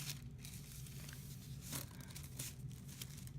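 Paper being folded over and over for a traditional piñata, giving soft, close crinkling and rustling with a few sharper crackles under a faint steady hum.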